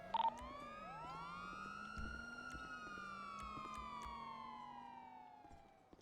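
A police siren in a roleplay game wails with rising and falling tones, steady and continuous, fading slightly at the end; no voices.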